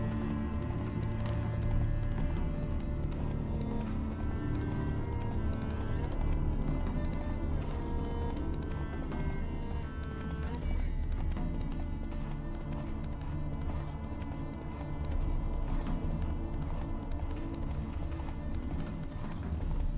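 Geralt's horse Roach from The Witcher 3 trots along, its hooves giving a steady clip-clop under a constant game soundscape with music, sometimes joined by a voice.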